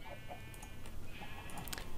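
Sheep in a farming video game bleat in short calls over a steady game music and ambient hum, several faint bleats spread across the moment alongside a few small clicks and chirps.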